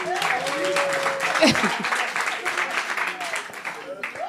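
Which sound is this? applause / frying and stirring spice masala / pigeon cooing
applause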